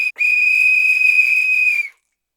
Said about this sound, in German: Meine Pfeife weckt jeden.